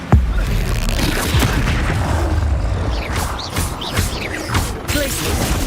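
A Confringo blasting-curse explosion in the Hogwarts Legacy video game: a loud booming blast opening over dense, continuous crashing and rumbling spell effects that keep going for several seconds.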